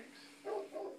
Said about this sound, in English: This is the sound a dog makes.